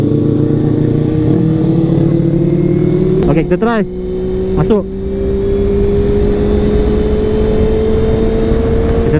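Kawasaki ZX2R motorcycle engine on a test ride, a loud, close steady drone whose pitch climbs slowly and continuously as the bike gathers speed, with a rider speaking briefly over it.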